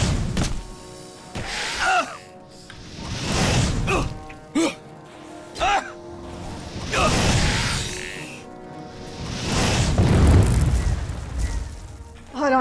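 Fire spell blasts in Elder Scrolls IV: Oblivion, a series of booming, thudding explosions spaced through the scene, with a person talking in between.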